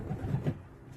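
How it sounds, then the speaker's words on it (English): Pigeons or doves coo softly nearby, a brief low murmuring call against quiet background. "Beautiful birds."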